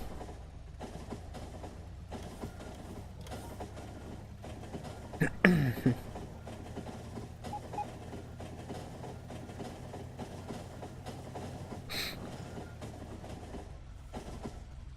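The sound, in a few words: train running in video game Factorio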